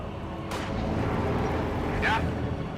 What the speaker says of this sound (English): That heavy mortar is definitely doing its duty for the motherland.